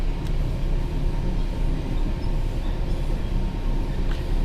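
Diesel-powered Class 801 train in Train Sim World 4 rumbles steadily with a constant low engine drone and rolling rail noise, close and continuous with no talk.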